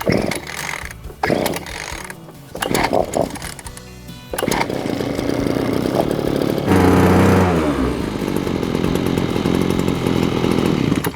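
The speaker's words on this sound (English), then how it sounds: "just worth giving it a few revs to warm the engine" A Cobra BC330C brush cutter's small petrol engine sputters, catches and starts with the choke on, then revs loudly to warm up and holds a steady, buzzing high idle close by.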